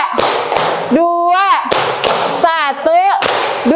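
Students in a classroom clap sharp, evenly counted beats, alternating with a voice calling out the count between the claps.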